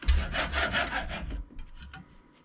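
A handsaw cuts a wooden board in several quick rasping strokes close by, then slows to a few lighter scrapes before stopping.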